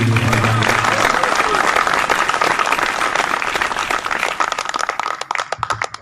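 Loud, dense applause from a large crowd at a poetry recitation fills the air, then thins out into scattered claps toward the end.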